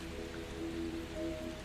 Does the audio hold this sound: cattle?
no